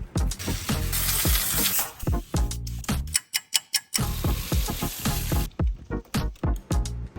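Water sprays in bursts onto a Kayo K6 EFI dirt bike engine being cleaned, a loud hissing spray interrupted by short pulses and brief pauses, up close.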